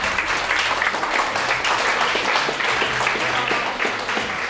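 Steady applause from a large audience at an evening event, dense continuous clapping that holds at an even level without letting up.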